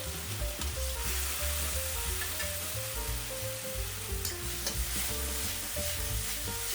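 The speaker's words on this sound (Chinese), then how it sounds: "翻炒几下" Conch slices and celery stir-fried in a wok, with a steady close sizzle of hot oil and repeated scraping stirs of the spatula throughout.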